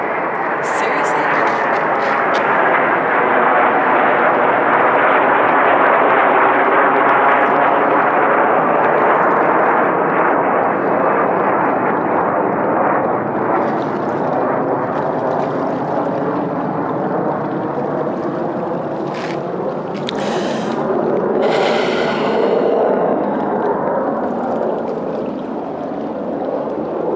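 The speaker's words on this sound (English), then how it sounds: "I have not heard a fighter jet in so friggin' long. And the fact that 4 of them just flew overhead." Four fighter jets fly overhead, a loud sustained roar that swells and slowly fades across nearly half a minute, dominating the scene with only faint other sounds near the end.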